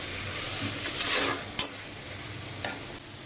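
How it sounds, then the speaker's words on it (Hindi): Tomatoes and onions sizzle softly in a pan for vegetable daliya, a continuous close frying hiss with a stirring swell and two sharp spoon taps against the pot. "अब हम इसमें टमाटर डाल देते हैं। थोड़ी देर भून लेते हैं।"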